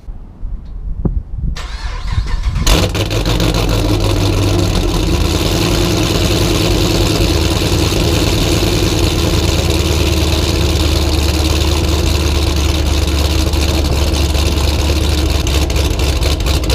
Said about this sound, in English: we'll go ahead and move the Saab